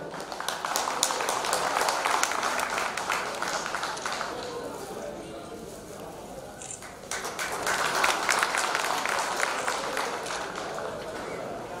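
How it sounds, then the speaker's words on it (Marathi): Sustained crowd applause at a union felicitation ceremony, dense steady clapping filling the whole stretch, dipping slightly in the middle before swelling again. "जोरदार टाळ्या झाल्या पाहिजेत."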